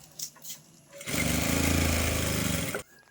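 Sewing machine stitching a strip of fabric folded to one inch wide, a steady loud mechanical whir running for about two seconds after a few quiet handling sounds, then stopping abruptly.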